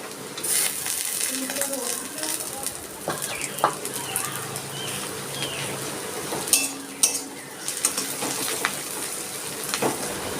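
Crushed garlic fries with onion in a pan while a utensil stirs and scrapes, giving a quiet sizzle broken by clinks and knocks. A voice speaks briefly.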